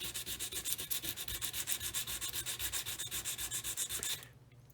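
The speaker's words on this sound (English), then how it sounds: "So I'm going to take my emery board on the corner of my work table here." Copper foil for a leaded glass solar lantern is roughed up with an emery board at a work table, a steady, rhythmic back-and-forth rasp of about twenty close strokes that stops abruptly near the end.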